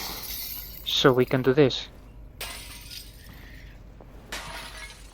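Glass shatters in Half-Life: Alyx in two bright crashing bursts, each with tinkling fragments. Someone talks briefly before them.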